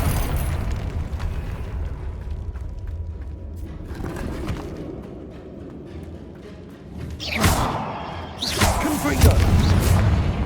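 Confringo fire spell in Hogwarts Legacy going off as a series of heavy booming blasts and bursts over rumbling game action, growing louder and denser toward the end.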